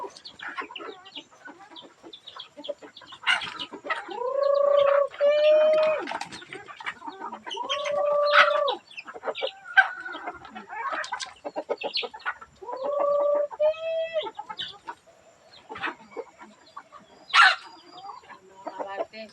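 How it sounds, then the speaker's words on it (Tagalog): Hungry backyard chickens cluck and squawk at feeding time in a busy flock, with repeated loud calls and a crowing-like cry among scattered pecking and scuffling sounds, fairly close. "Papakain po tayo mga kamarites ng manok kasi mga pasaway ang manok"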